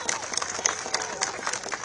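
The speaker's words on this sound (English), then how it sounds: "can we please have a round of applause for the many police officers who are here today?" Crowd at an outdoor protest applauding police officers, a dense wash of clapping and cheering that swells in bursts, with voices mixed in throughout.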